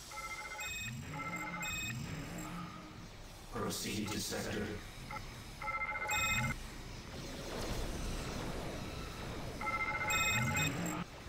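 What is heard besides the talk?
phone-ringing sound effect from the video game Star Trek Armada III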